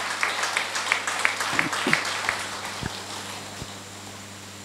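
A Telugu event audience in Vizianagaram applauds GK with a patter of scattered claps, fairly faint, under a steady hum, while someone speaks briefly through it.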